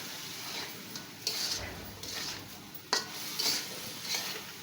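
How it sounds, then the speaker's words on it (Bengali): Vegetables with cauliflower stirred in a sizzling frying pan for a Chinese-style vegetable dish, with repeated scraping strokes over a steady soft fry and no talking. "ফুলকপিগুলো দেওয়ার পরে আমি ভালো করে নেড়ে চেড়ে নিচ্ছি।"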